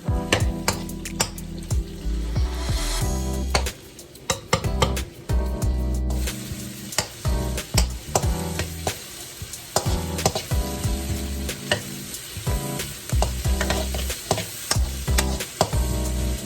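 Fresh vegetables for beef with broccoli sizzle loudly in a hot pan, broken by frequent sharp stirring clatters and scrapes of the utensil throughout.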